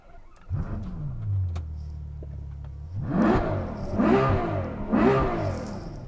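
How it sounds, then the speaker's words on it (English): Ferrari GTC4Lusso V12 engine cranking and firing up, settling into a brief idle, then three loud, rising revs in quick succession, heard close from outside the car. "I'm about to start it up and I wanted to let you hear that V12 sing"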